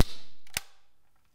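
APS Striker-12 Street Sweeper MK2 gas shotgun with live shells firing a single shot, a sharp, close crack followed by a brief mechanical clack that fades quickly.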